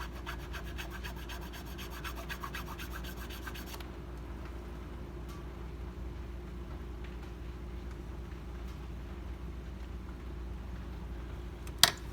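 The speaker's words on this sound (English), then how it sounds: "putting a little bit of weight on the tail end of the file with my thumb, and filing it away" Hand file rasping on a small scratch-built model part, a soft steady rubbing texture that runs close and continuous at low level, with brighter strokes early on, one sharp click near the end, and no talking.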